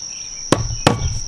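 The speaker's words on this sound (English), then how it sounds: "I'm just going to use a hammer and nail to pop a little hole." Two sharp metallic hammer strikes on a nail punching a hole in a thin tin can, close and distinct, about a third of a second apart over a steady high background whine.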